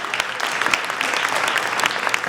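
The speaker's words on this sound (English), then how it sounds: "That's worth an applause, right, George?" Audience clapping at a civic meeting in Trenton, steady dense applause from a crowd throughout, moderately loud with no talk over it.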